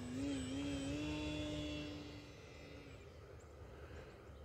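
Arrows Bigfoot RC aircraft motor hovering at half throttle after a crash, a steady whining drone that wavers slightly in pitch, moderately distant and fading lower after a couple of seconds.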